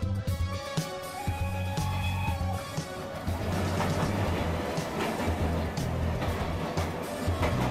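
A train rumbles steadily along the rails with rhythmic clacking and a continuous low roar, close and loud throughout, with no talking.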